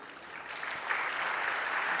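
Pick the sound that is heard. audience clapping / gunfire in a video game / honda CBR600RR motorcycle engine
audience clapping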